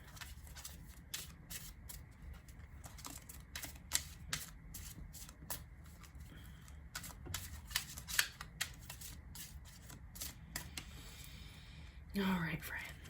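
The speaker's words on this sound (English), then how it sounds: "So let's pull some of these new oracle cards and see what we got here." Oracle cards being shuffled by hand in a quiet indoor tarot reading, a steady run of soft crisp riffles and taps for several seconds, with a brief louder rustle near the end.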